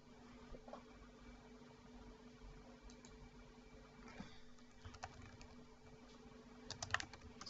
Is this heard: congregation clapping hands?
no